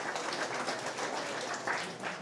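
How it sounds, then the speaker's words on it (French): An audience breaks into applause, a steady wash of many hands clapping at once. It sounds soft and somewhat distant and carries on evenly for a couple of seconds. "Ce jeune homme mérite des applaudissements."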